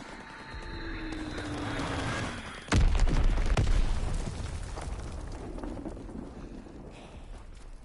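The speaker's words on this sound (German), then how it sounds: "Feindliche Bombe im Anflug." A heavy bomb explosion from Call of Duty WWII bursts out as one sharp, loud boom, then rumbles and fades over several seconds amid the din of battle.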